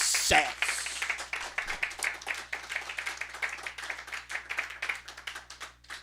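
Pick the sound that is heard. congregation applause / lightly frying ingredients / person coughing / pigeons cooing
congregation applause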